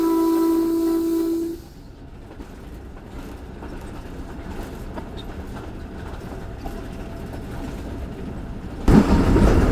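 The Thal Express passes Noor Junction railway station at night, its wheels rumbling steadily on the track throughout, with a horn tone holding for the first second or so and a loud clatter bursting in near the end.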